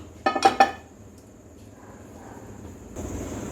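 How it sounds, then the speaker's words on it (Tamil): A cooking pan is set down on a home kitchen stove with three quick metallic clanks close by, followed by quiet room hum and a low rumble. "இப்போ நம்ம இந்த எண்ணெயை எடுத்துடலாம் பேன் வைக்கலாம்"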